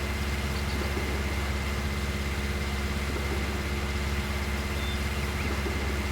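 Farming Simulator 19 tractor engine running steadily while driving a TMR mixer wagon through the PTO, a constant mid-low drone with no change in pitch or level.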